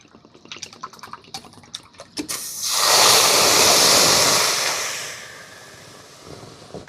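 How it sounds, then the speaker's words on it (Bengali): Water poured into a bowl of sugar to make syrup: a few light clinks give way to a steady, loud hissing pour lasting about three seconds that fades out gradually. "এক বাটি চিনির জন্য এক বাটি জল দিয়ে দেব।"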